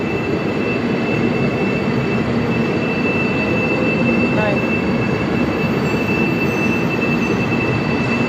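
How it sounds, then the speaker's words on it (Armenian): An older train rumbles past steadily and loudly in Suzhou, China, with a constant high whine over the rolling noise throughout. "Այն գնացքը, որ գալիս է, հա, այդ ավելի հին գնացք է"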